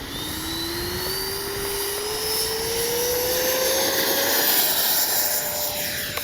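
A Freewing 90mm J-10 radio-controlled jet flies past, its ducted-fan engine a loud, steady roar with a whine that climbs gradually in pitch as it passes, with no talk.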